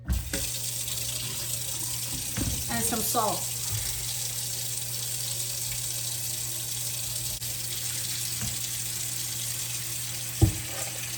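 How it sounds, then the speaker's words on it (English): A kitchen sink fills with cold water from the tap, a steady rushing stream throughout with a few clinks and splashes, while a person speaks briefly over it. "I'm going to fill my sink up with water, cold water"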